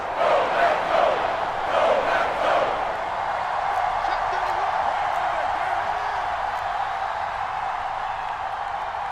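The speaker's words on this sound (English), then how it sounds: "The crowd getting into it as we come up on a big 3rd down" A stadium crowd in Madden NFL 22 roars during a Washington Football Team versus Packers game ahead of a big third down, a broad sustained cheer that swells early and then settles into a steady wash of noise.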